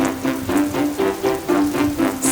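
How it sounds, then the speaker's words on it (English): Rain pours steadily on a house roof in an animated children's story, a continuous patter with soft rhythmic swells, fairly loud and close, with no voices over it. "We're going to get wet and catch a cold if we walk in the rain."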